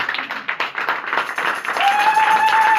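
An audience at a church seminar in Agen applauds to welcome a visiting pastor from Toulouse, a dense, steady round of clapping from many hands that swells and carries on loud and close throughout.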